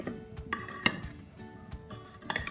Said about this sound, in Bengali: এই জন্য আমি চামচ দিয়ে এগুলি নাড়তেছি